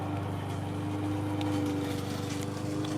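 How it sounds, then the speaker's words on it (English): A lawnmower engine runs nearby outdoors, a steady droning hum with strong low tonal bands and a constant rattling texture, loud and continuous throughout with no talk over it. "the lawnmower is too loud"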